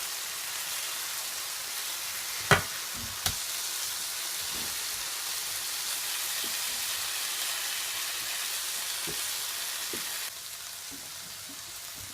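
Pomfret fish frying in oil on a flat tawa, a continuous soft sizzle with a few sharp pops and crackles, steady and close, dropping slightly near the end.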